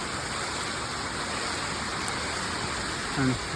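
Steady rain falls on a Kerala farm plot planted with elephant foot yam, tapioca and ash gourd, a continuous hiss that stays even throughout, with a brief low sound near the end.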